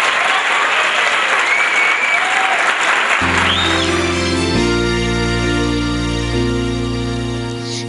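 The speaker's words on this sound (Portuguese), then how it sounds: "Cadê um aplauso de vocês para Camila?" An audience applauds eleven-year-old singer Camila at a children's gospel singing event, loud sustained clapping as organ-like keyboard chords enter and hold beneath it.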